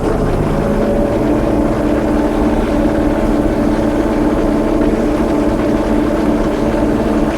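A John Deere 4440 tractor diesel engine lugs hard under load, RPMs pulled down as it works a farm field; a steady, loud, low rumbling drone runs unbroken throughout with no talking.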